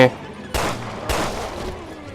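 Gunfire in the video game Resident Evil Revelations 2, two loud, sharp shots about half a second apart, each trailing into a noisy decay, close and dominant.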